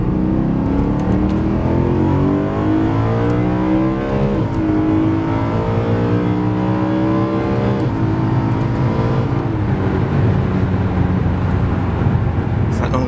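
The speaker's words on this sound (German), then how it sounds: "So, jetzt ist die Klappe zu, dann hören wir mehr vom Motor." A BMW E92 M3 with the S65 V8, Eventuri intake fitted and exhaust flap closed, revs loudly and steadily up and down close by, intake and engine tone dominant over the exhaust.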